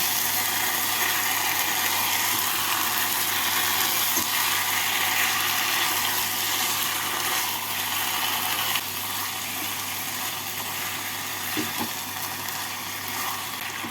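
Marinated chicken is stirred with spices in a hot pan for maharani chicken, a steady loud sizzle and hiss lasting the whole stretch, with a few faint scraping knocks of the spatula.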